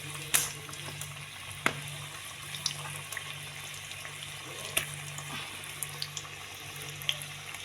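Taro leaves frying in oil in a home kitchen, a faint steady sizzle broken by occasional sharp clinks and taps.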